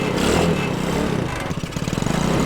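Small gas engine of a cheap Walmart tractor running, a rough, busy mechanical drone that stays fairly loud and steady for a couple of seconds at close range.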